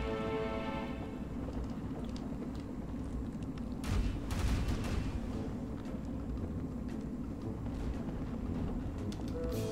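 Ship cannons fire during a naval battle in the pirate video game Pirates Online, with a rumbling volley of booms over a dense, continuous roar of battle and sea noise.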